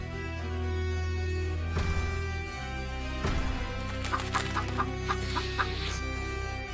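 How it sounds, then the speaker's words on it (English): Chicken clucking in short bursts in an animated fantasy film, over a dense, sustained musical background, the clucks fairly clear toward the end. "Just as Jack was about to catch the chicken"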